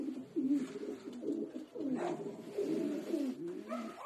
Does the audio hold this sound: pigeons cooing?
yes